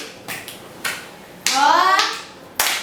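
Several sharp hand claps in a classroom, spaced irregularly with short gaps between them, and a voice speaking partway through.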